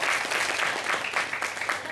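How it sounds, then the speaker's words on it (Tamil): An audience claps steadily through a Tamil school speech competition, a dense, even patter of many hands that holds at a fairly loud level from start to finish with no voices on top. "இன்னொரு தடவை கைதட்டுங்க."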